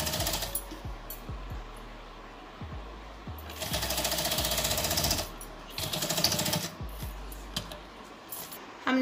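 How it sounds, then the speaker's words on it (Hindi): A sewing machine stitching the neckline of a plain kurti, with short bursts of rapid needle clatter broken by pauses, close and fairly quiet, with no voices. "हम इस तरह से जहाँ तक हमारी पट्टी एक दूसरे के ऊपर सीधी आ रही है उसके ऊपर सिलाई करेंगे।"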